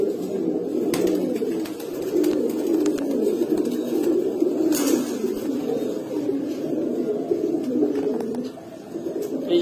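Arali-type pigeons, one pair among several birds, coo continuously at close range, a dense rolling murmur of overlapping throaty calls with a few faint clicks and knocks behind.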